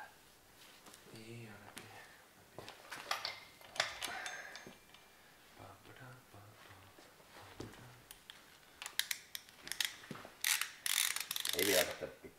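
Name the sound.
ratchet wrench with 22 mm socket on BMW engine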